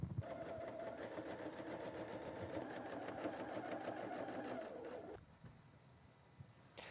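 A sewing machine stitching straight quilting lines on a quilt: a steady, rapid mechanical whir of needle strokes running for about five seconds, then stopping, leaving quiet room noise behind.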